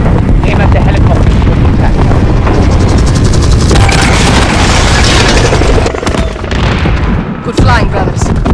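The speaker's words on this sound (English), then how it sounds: "Crash into the chopper." A helicopter crash in the Call of Duty: Modern Warfare video game brings loud, heavy booming explosions and a sustained roaring rumble, with a brief lull before the blasts surge again near the end.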